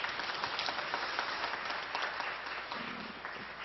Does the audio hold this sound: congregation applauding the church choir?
yes